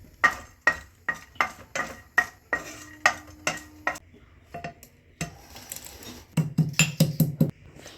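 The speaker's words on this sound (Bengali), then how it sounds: "এলাচগুলোকে শুকনো তাওয়ায় এভাবে সেঁকে নিতে হবে।" Cardamom pods being dry-roasted on a dry tawa give a rapid series of sharp metallic scrapes and taps, about two per second, close and distinct, followed by looser rattling and scraping.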